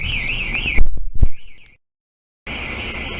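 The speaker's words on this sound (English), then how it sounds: "Although the fire alarm's going off downstairs." A fire alarm sounds downstairs in a café, a loud, piercing warbling tone with a few thumps, cutting to silence for about a second before the shrill tone resumes.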